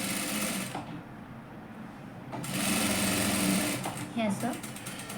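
A sewing machine stitching a katori blouse runs in steady, whirring bursts, pausing and restarting, with a voice speaking briefly over it.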